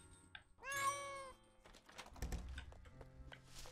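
A cat meows once, loud and drawn out, in the heist video game Monaco, followed by thumps and scattered game sounds.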